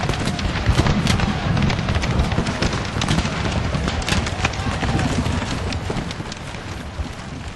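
Napoleon Total War battle at Gettysburg's Little Round Top: dense, continuous musket volleys and booming artillery fire roll together into a loud, sustained battlefield din.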